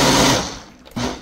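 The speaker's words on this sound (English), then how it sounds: "Coconut we blend in." A blender blends coconut in loud, close, buzzing motor bursts: one run stops, and after a short pause a second pulse starts.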